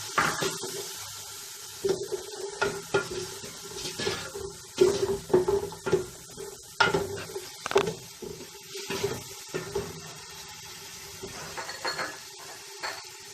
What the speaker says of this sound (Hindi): थोड़ा सा पानी डालना है कि मसाला लगे ना।